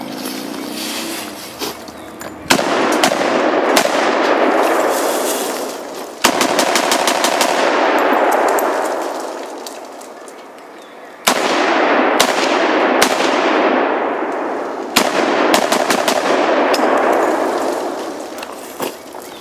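Automatic bursts from a pocket-sized AK pistol, four long rapid strings of loud shots with brief pauses between them, close and sharp with echoing decay, no talking.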